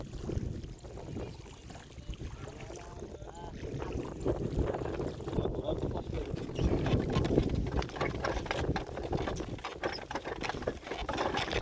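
A wooden trawler boat chugs along the Jamuna river from Balashi Ghat, its engine a steady, close rumble mixed with water spatter and wind buffeting, with faint voices underneath.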